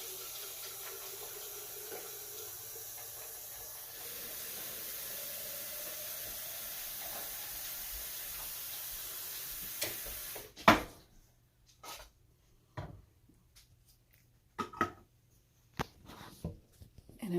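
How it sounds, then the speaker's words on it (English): Tap water runs steadily into a sink as a measuring spoon is rinsed off, then cuts out, followed by scattered clinks and knocks. "I'll just go ahead and rinse this off."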